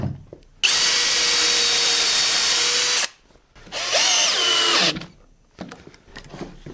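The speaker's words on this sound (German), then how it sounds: "Schraube rein." A power drill drives a screw into wood while building a lift router table: a loud steady whir for over two seconds, a short pause, then a second burst with a rising and falling pitch, followed by quieter handling noises.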